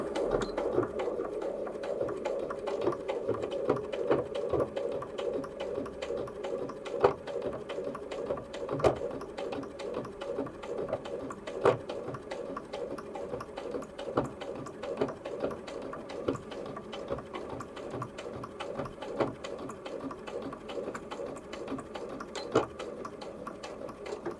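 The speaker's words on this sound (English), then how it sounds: "It's managed to send the needle down to the bobbin every single time to complete a stitch" A Bernette B38 sewing machine stitching fabric at reduced speed: a steady, fast mechanical whirr with rapid needle ticking, close and continuous with no talk.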